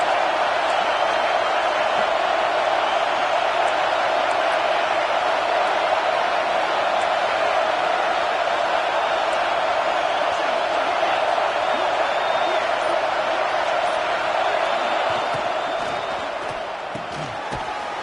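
A stadium crowd at an American football game roars continuously during a goal-to-go defensive stand, a dense, loud sustained cheer with scattered whoops that eases slightly at the end.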